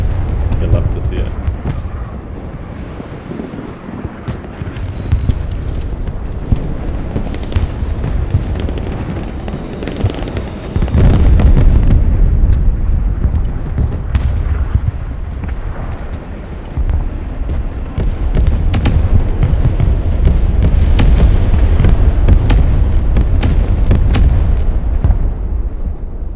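Mortar shells exploding in the Broken Arrow war game, with repeated heavy booms and rumbling blasts over continuous battle noise for most of the stretch, under intermittent talk.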